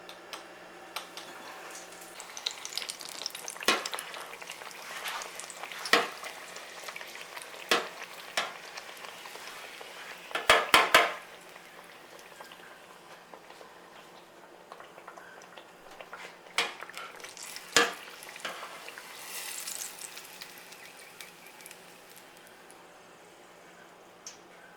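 Eggplant slices fry in a pan for eggplant parmigiana, a soft steady sizzle with scattered sharp ticks and clinks of utensils, fairly quiet and close, with no talking.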